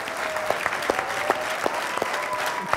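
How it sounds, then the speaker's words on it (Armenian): An audience applauds steadily on a sports club talk show, a dense even patter of clapping with a few sharper claps standing out, moderately loud and without speech. "եկեք ծափանենք"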